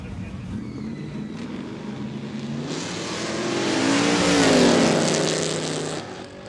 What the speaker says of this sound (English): Oh, Chevelle.